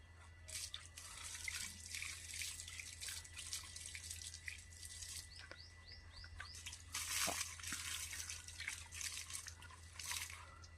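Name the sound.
water being poured onto plants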